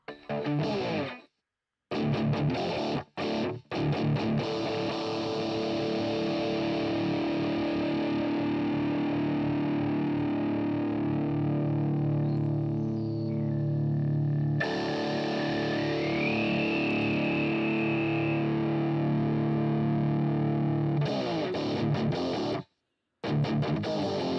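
Heavily distorted electric guitar through a GarageBand amp simulator plays sustained, buzzing notes and chords with harsh high end, with brief silent gaps near the start and end.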